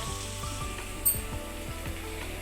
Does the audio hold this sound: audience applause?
no